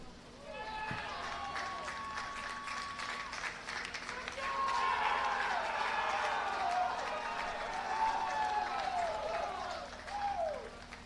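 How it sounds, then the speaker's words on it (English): Crowd applause after a college baseball championship game, sustained clapping and cheering that swells midway and continues while voices call out and talk over it. "Let's hear another round of applause for such a fantastic season"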